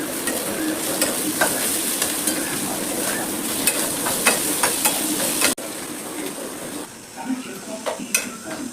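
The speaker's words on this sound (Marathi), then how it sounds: "हे बघा मस्तपैकी फ्राय झाले।" Bitter gourd fries in a pan with salt and garlic, a steady loud sizzle broken by the scrape and clink of a spatula stirring, close up, with a brief quieter stretch near the end.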